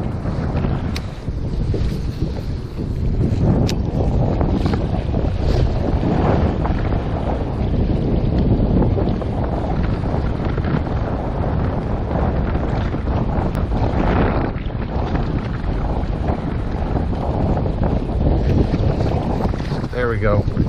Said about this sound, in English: the wind has definitely picked up today